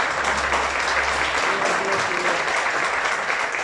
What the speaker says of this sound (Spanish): le vamos a dar un aplauso y bienvenida.